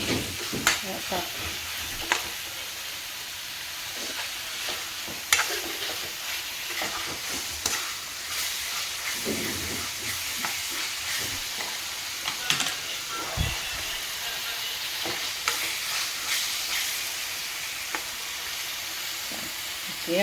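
Meat fries in a pan with a constant loud sizzle, while repeated scraping stirs and occasional clanks of the utensil on the pan come through close by.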